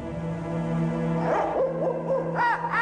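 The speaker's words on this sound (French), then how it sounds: "on peut entendre les oiseaux de nuit" An owl hoots at night, a few close, clear wavering calls rising and falling in pitch over a quiet background, with no talk.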